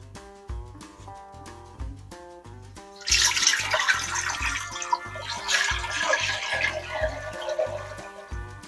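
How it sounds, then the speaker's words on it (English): Tap water pours into the bottom pan of a steam juicer, a loud, steady splashing rush that starts suddenly partway through over quiet rhythmic music, with no talking. "And I need to put some water and fill this with water first."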